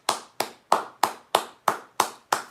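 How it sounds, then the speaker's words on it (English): Hands clapping during a late-night live stream, eight sharp, evenly spaced claps in a slow steady rhythm, close and fairly quiet with nothing else underneath. "Can I get a round of applause?"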